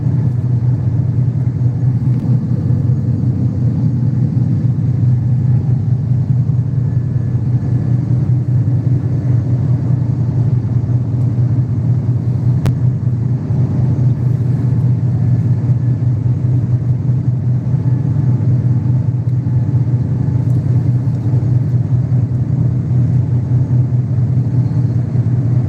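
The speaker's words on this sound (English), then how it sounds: "Driving." Steady low rumble of a car driving on a road in the Philippines, constant road and engine noise heard from inside, loud and unbroken, with no talking.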